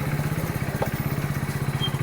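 A motorcycle engine runs nearby with a steady, rapid low putter, droning on evenly with no speech over it.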